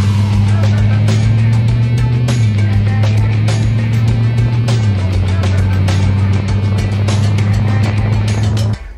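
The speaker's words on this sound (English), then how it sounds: "If you got a V8, you're not trying to hide it." The deep, steady rumble of a Jeep Wrangler 392 V8 idles close and loud, its low drone stepping down slightly in pitch midway before cutting off abruptly at the end.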